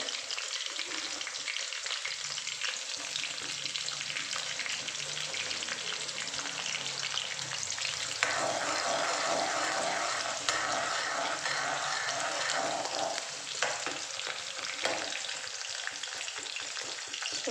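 Garlic fries in hot oil in a pan for sweet corn fried rice, giving a steady, loud sizzle with occasional stirring scrapes, close and continuous.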